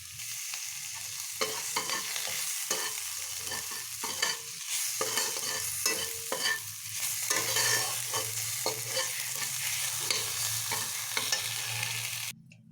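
Spices and vegetables for poha, seasoned with turmeric and salt, sizzle continuously in a pan while a spatula stirs and scrapes in frequent irregular strokes, close up, with no talking.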